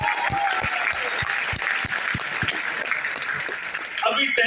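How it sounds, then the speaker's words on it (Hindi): A large audience claps loudly and steadily for Pearl Vine at an achievers' event in Ranchi, Jharkhand, a dense continuous roar of hands with a voice rising over the crowd near the end. "तो जोरदार तालियां मारो पर्ल वाइन के नाम पे"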